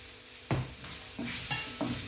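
Onions sauté in a pan with a pinch of salt, a soft steady sizzle broken by several scraping stirs of a spoon, close and quiet with no talking.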